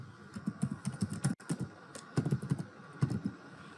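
Code being typed on a computer keyboard, a quick, uneven run of close, crisp key taps with a short pause partway through.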